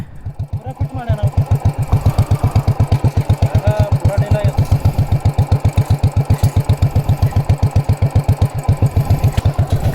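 A Thunderbird motorcycle idles loud and close with its silencer off, its rapid, even exhaust pulses chugging without a break while voices talk over it.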